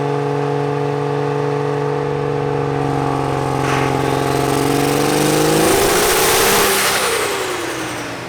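A compound turbo truck engine at full throttle on a dyno at a callout challenge, a steady loud drone that builds in pitch and roar over several seconds, then swells into a broad rushing howl.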